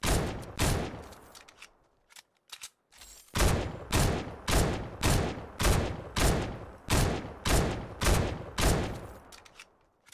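Compact SMG fire in Fortnite: rapid, loud bursts of automatic gunfire in a steady pulsing rhythm of about a dozen sustained volleys, with a brief pause early on and no talk over it.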